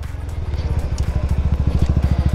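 A motorcycle fitted with a slip-on exhaust idles close by, its engine throbbing in a fast, steady, even pulse for a couple of seconds with a loud low-end thump.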